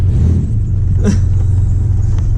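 A 1987 Chevy S10 pickup idling and creeping on ramps, a loud close low engine rumble steady throughout with a brief rattle near the middle.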